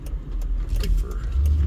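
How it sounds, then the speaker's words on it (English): Street traffic near the Las Vegas Strip, a steady low rumble of passing cars and engines with faint jangling in the foreground, close and continuous throughout. "All right, so wait for traffic here."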